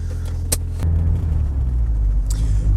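A Ford Sierra Cosworth 4x4 from the 1990s starts and pulls away, its engine settling into a loud, steady low rumble close by, with a couple of brief sharp clicks over the drone.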